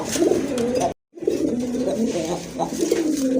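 Desi Bombai pigeons coo close by in low, throaty, repeated calls, interrupted by a moment of silence before the cooing resumes.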